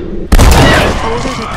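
A sudden loud gunshot booms in Red Dead Redemption: Undead Nightmare, followed by a rumbling echo and further crackling reports, with a voice speaking over it.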